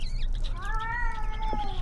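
A cat meows once in the horror video game ERIE, a drawn-out, rising-then-falling cry that sounds close and clear over a low ambient hum, with no talking.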